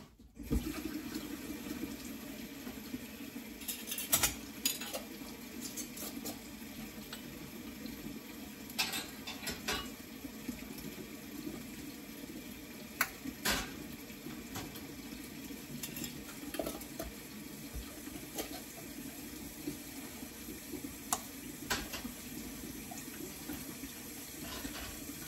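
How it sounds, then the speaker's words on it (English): Water running steadily from a kitchen tap into a sink, a continuous hiss with occasional clinks and splashes, no voices. "so let me turn this water on."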